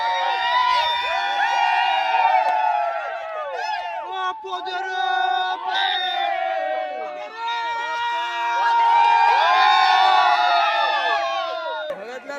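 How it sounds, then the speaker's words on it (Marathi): A crowd of boys cheers and whoops loudly at a Shimga festival in a village, with continuous shouting voices layered together, close and energetic throughout. "पोरांचा जो जल्लोष आहे आजचा"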